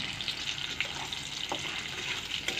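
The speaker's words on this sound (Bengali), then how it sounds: "চালগুলি এরকমভাবে ভাজিয়ে নেব।" Rice frying in a pan over the heat for a fish-head muri ghonto, giving a steady soft sizzle and hiss with faint scraping stirs, close and constant throughout.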